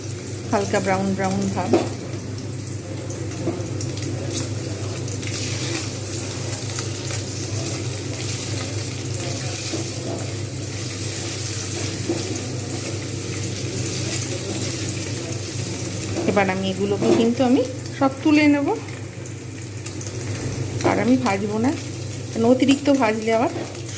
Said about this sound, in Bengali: যতক্ষণ পর্যন্ত না ঠিকঠাকভাবে ভাজা হচ্ছে একটু হালকা ব্রাউন ব্রাউন এসে গেছে